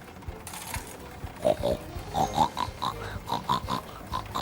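A child makes a series of snorting, oinking pig noises in short rhythmic bursts, a voice imitating a pig up close.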